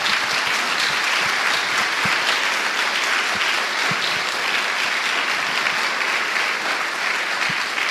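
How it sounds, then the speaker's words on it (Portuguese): A church congregation claps steadily and loudly, a dense, even roar of many hands that holds for the whole stretch without a break. "Dê uma salva de palmas a Jesus."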